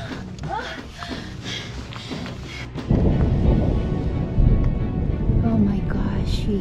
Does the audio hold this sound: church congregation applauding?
no